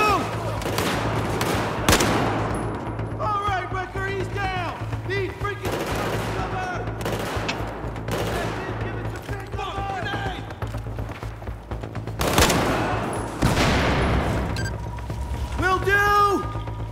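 Battlefield 4 gunfire crackles in repeated bursts and scattered shots over a steady low rumble of battle, with several loud sharp cracks near the start and toward the end, while people talk and shout over the action throughout.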